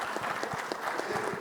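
Applause from panelists and a full-house audience at a logistics and trade expo, moderately loud with a mix of individual claps and a dense background patter.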